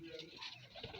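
A pigeon cooing outdoors in nature, a soft, low, rolling coo repeated over a steady background hum, fairly close and clear.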